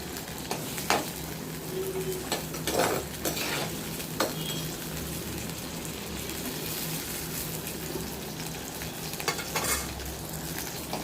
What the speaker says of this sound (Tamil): நல்லா கத்திரிக்காயெல்லாம் நல்லா வதங்கி வரட்டும்